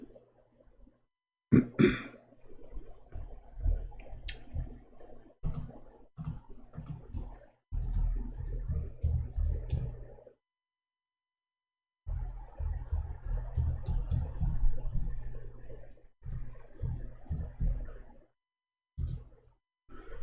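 A computer keyboard is typed on in irregular bursts of close, light clicks separated by short silences, with an occasional throat-clearing sound.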